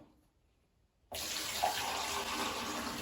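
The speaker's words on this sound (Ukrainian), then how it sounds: "Вода дуже швидко убігає. Тобто Бачите, лию лиєм не застаюється" Water suddenly gushes from a tap or hose onto a newly installed shower tray in a narrow niche and into its drain, a loud, steady splashing rush that starts abruptly after a moment of near silence.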